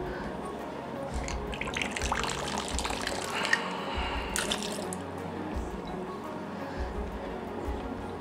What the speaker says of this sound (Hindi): हमारा मेन इंग्रेडिएंट विस्की। विस्की हम डालेंगे इसके अंदर।